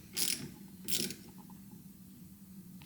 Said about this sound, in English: Just using a 1/4" wrench on these.